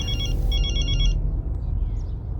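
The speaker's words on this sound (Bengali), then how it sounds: "বাবার ফোন" A telephone rings with rapid electronic trilling bursts, loud and close, then cuts off after about a second, leaving a quiet room hum.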